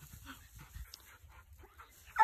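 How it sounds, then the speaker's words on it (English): A dog pants softly indoors, faint rhythmic breaths with light whimpering under a quiet background, ending in a brief louder sound. "one of the dogs got in here"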